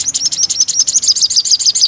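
A decoy bird chirping close by, a rapid run of sharp, high tweets repeating in a quick, steady rhythm without a break, loud and alone.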